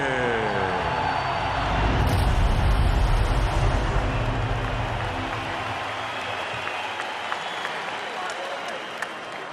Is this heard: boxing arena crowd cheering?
yes